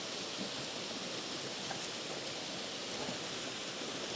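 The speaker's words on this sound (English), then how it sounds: "I quite like that flow of the water over there." Continuous roar of water tumbling down a waterfall, a constant hiss and rush heard up close with faint small splashes, no talking over it.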